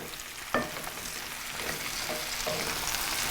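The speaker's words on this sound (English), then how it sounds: "So we're gonna cook these down. Make sure I get all that butter and peppers and onions incorporated in that." Peppers and onions fry in butter in a home kitchen pan, a steady soft sizzle with occasional scraping stir strokes, close and moderately loud with no talking.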